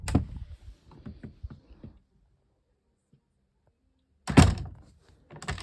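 A door swings shut under a Geaz TS 2000 closer with an old-fashioned latch, a series of soft knocks and creaks, then a loud close thunk as it latches, followed by another knock.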